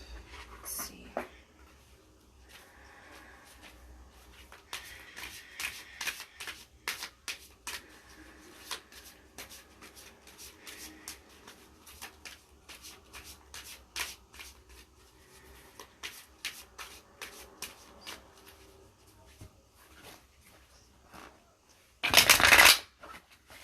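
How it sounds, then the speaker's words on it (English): Tarot cards shuffled by hand in repeated riffling bursts, close and crisp, with quieter handling between and one loud burst near the end. "That was a loud shuffle."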